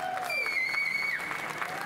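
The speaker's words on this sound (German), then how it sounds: "bitte euch um einen großen Applaus" Audience applause at an award show stage, a brief burst of steady clapping with bright sustained music tones ringing over it.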